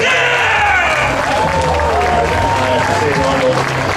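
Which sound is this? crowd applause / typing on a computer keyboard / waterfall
crowd applause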